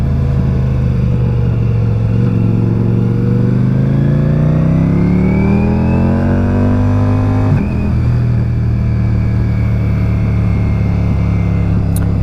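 A 2023 Ducati Diavel V4 motorcycle engine runs steadily close by while ridden, its pitch rising smoothly through a long rev build and then dropping sharply as it shifts, settling into a steady drone, with no talking.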